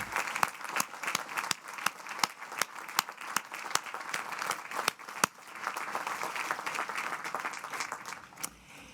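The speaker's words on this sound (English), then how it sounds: "Let's recognize all of those accomplished graduates with one more round of applause." Sustained audience applause for graduates at the Bucknell 2018 commencement ceremony: dense, steady clapping from a large crowd that continues throughout, with sharp individual claps standing out near the front.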